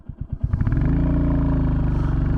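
A 2023 Royal Enfield Classic 350 single-cylinder motorcycle pulls away at full throttle: a few separate low thumps, then a steady, loud, rising engine drone holding close and continuous with no talk.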